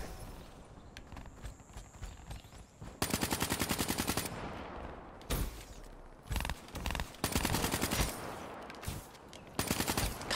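Rapid automatic gunfire from the Call of Duty Black Ops Gun Game mode comes in several loud bursts of a second or so, separated by quieter stretches of game ambience.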